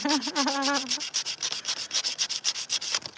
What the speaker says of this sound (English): Just listen to the scratching noise